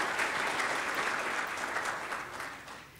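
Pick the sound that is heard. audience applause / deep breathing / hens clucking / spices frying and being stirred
audience applause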